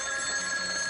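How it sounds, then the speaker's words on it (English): A telephone rings electronically in a steady, continuous tone, loud and close, with no talking over it. "Sounds like the phone."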